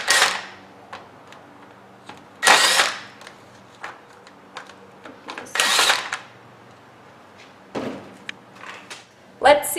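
A power tool rattles off wheel nuts on a 2007 Chevy Malibu in short, separate bursts of whirring impact, about six loud spurts with quieter clinks and handling noises between them.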